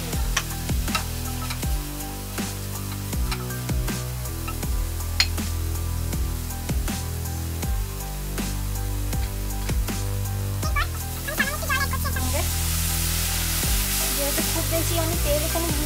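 Spices hitting hot oil in a pan for a Bengali Bombay duck dish, a steady close sizzle with scattered pops and stirring scrapes that swells into a louder hiss near the end.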